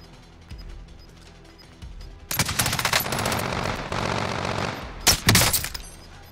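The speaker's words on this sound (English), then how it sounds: "they're shooting under the bridge by our loadout" Dense automatic gunfire from the video game Call of Duty Warzone, with shooting under a bridge: loud rapid bursts start about a third of the way in, hold steady, then end in a couple of sharp closing blasts.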